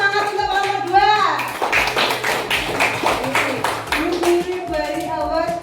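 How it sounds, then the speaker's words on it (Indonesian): Schoolchildren in a classroom clap together in a quick, rhythmic burst of hand claps for a group, mixed with a teacher's voice and children's chatter. "Tepuk tangan untuk kelompok 2."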